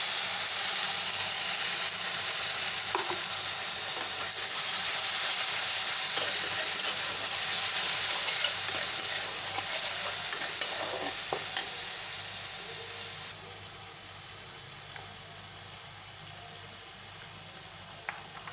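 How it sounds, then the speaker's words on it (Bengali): Fried onions with garlic, ginger, a little tomato and a green chilli sizzle and hiss in a pan while being stirred, a dense steady frying sound with occasional scrapes that eases to a quieter sizzle toward the end. "আমার এখানে পেঁয়াজগুলো ভাজা হয়ে গেছে আমি এতে রসুন আদা টমেটো অল্প দিয়েছি একটা কাঁচা লঙ্কা"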